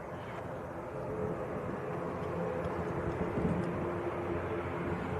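ATR 72 turboprop of Aer Lingus lined up full length for takeoff at Manchester Airport, a steady low engine drone held at a distance throughout, with no talk over it.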